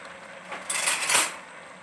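Spoon clinks and scrapes in a pot as sugar and fresh cream are stirred into carrot halwa, a short burst of metallic stirring noise, close and fairly quiet.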